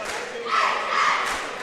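A large Marissa cheer squad chants at a high school boys' basketball game, loud rhythmic group shouting in two surges over a packed gym crowd.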